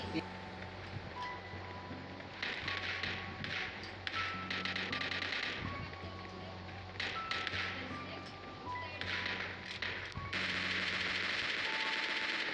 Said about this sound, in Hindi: और तभी मेरे को यार आगे से गन शॉट की आवाज आती है।